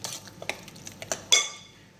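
A spoon stirs meat pie filling in a pan, with soft scrapes and a series of light clinks, then one louder metallic knock that rings briefly before fading out.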